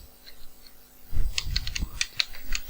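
Someone types on a computer keyboard, entering a name into a web form: a quick burst of close, light key clicks after a quiet start, irregular and crisp.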